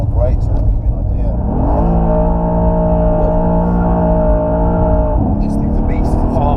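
A Mercedes-AMG C63 S with a 4-liter bi-turbo V8, drifting sideways on a low-grip track, drones loudly at a steady high engine note heard from inside the cabin, dipping and recovering as it holds the slide.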